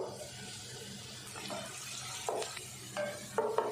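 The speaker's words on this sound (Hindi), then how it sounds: "आधा कप ऑयल डाल दिए। अब इसमें डाल देंगे एक मीडियम साइज़ की प्याज।" Medium-sized onion going into half a cup of hot oil in a pan while cooking aloo shimla mirch, giving a steady broadband sizzle with a few louder crackling bursts toward the end.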